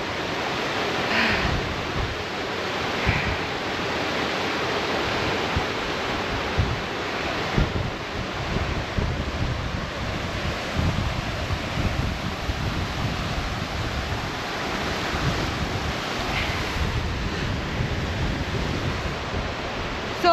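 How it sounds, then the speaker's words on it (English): Moss Force waterfall in the Lake District pours with a steady, broad roar of rushing water that stays even and continuous throughout, with no voices over it. "Is Moss Force Waterfall."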